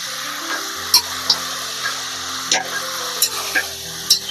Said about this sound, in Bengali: আর ভালো করে নাড়ি চাড়ি দেবো।